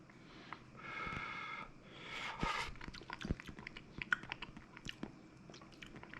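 Someone tastes hot meat soup cooked over a wood-fire stove, with slurping breaths, sniffs and soft chewing and mouth noises close up, irregular and quiet, no talking.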